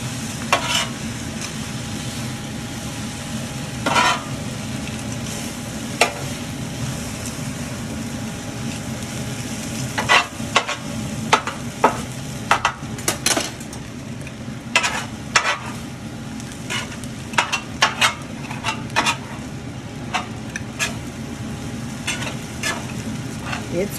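Chicken and quinoa stir fry sizzling steadily in a pan, a continuous frying hiss with scattered clicks and scrapes of stirring throughout, close and moderately loud.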